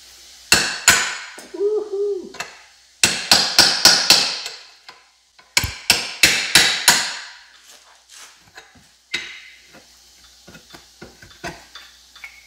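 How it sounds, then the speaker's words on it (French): A hammer strikes a cold chisel on metal in rapid sharp clusters of four to six ringing blows, separated by brief pauses, loud and close with no voices. "Donc, tu prends ton ciseau à froid."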